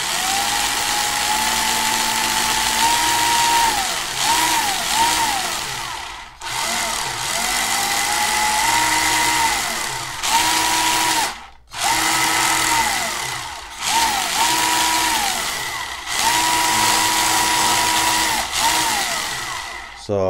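Electric motor of a Tamiya Porsche 959 RC car winding up and down in repeated throttle bursts, loud and close, each rising whine followed by a brief drop before the next rev.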